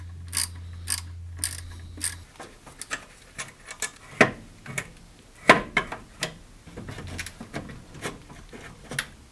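Ratchet wrench work on a BMW E34 during alternator removal: close, irregular bursts of metallic ratcheting clicks and clanks, with an engine-bay hum in the first two seconds.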